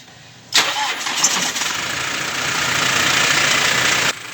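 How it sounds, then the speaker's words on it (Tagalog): A 2023 Toyota Hi-Ace Grand Tourer van, repaired after a no-crank fault, cranks and catches almost instantly, then settles into a loud, close idle for several seconds before the sound drops away. "At ngayon ay subukan nating pandarin ulit yung engine."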